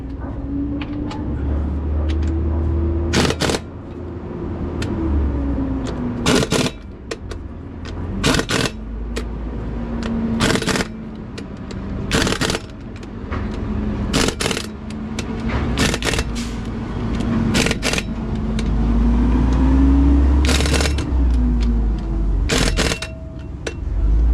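An impact wrench hammers flywheel bolts on a Cummins ISX 15 diesel engine in loud, short repeated bursts spaced a few seconds apart, over a steady engine-like drone in the shop.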